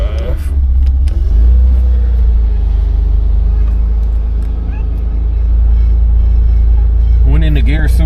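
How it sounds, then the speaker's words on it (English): Inside a 1986 Ford Bronco II at the start of a test drive on a 35-degree day, the engine rumbles loudly and steadily throughout, with a brief voice near the end. "We'll go ahead and start the test drive."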